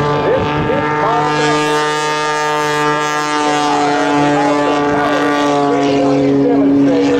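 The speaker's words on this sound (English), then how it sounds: "as Sean eases that throttle forward, he's going to roll his way around" Aerobatic airplane engine droning steadily through an airshow roll maneuver, a loud sustained tone with strong even harmonics that waver slightly as throttle changes, with an announcer talking over it throughout.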